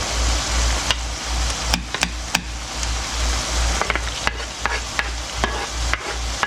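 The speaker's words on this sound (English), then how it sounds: "then we're going to add the onions in to saute it" Browned meat and onions sauté in a pot for chuckwagon baked beans, a continuous close sizzle broken by repeated sharp scrapes and clacks of a spoon stirring against the pan.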